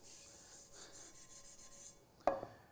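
A rusty carbon steel skillet is scrubbed with baking soda paste, giving soft, rhythmic rubbing and rasping strokes, faint and close, ending with a brief sharper knock.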